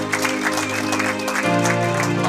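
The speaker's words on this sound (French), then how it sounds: "Acclamez pour la gloire de notre Dieu" A church congregation claps and applauds together during a French-language sermon, steady and close, the clapping blended with music.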